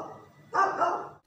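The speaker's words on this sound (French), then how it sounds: "Hurlement des chiens la nuit." A dog barks at night in Alexandria, one short close bark with a faint yip starting at the very end.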